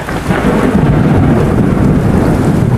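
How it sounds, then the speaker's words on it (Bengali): A loud, close thunder strike booms and rumbles continuously over falling rain, filling the whole moment with a deep, heavy roar and no voices. "তখনই কাছে পিঠে কোথাও ভীষণ জোরে বাজ পড়ল।"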